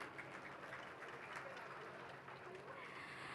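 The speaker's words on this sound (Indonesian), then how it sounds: "Boleh berikan tepuk tangan." An audience at a public debate between regency candidates applauds, a continuous even patter of clapping filling the hall at fairly low volume.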